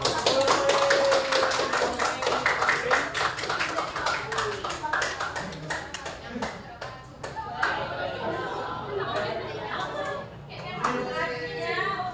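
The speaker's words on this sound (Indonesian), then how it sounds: "Kita berikan tepuk tangan untuk kelompok 2." Sustained applause from a class of students after a group presentation, dense and steady clapping close by with some children's voices and chatter mixed in.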